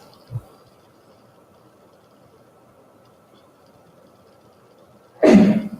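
A single sharp sneeze bursts out near the end after a brief quiet sound at the start, in an otherwise quiet room.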